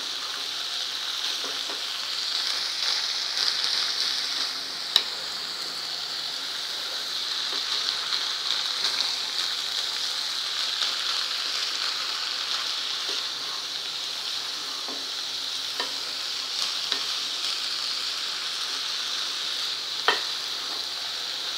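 Cabbage and chana dal bhaji being fried and stirred in a pan, a continuous even sizzle close up with occasional light clicks and scrapes of the spoon against the pan, no voices.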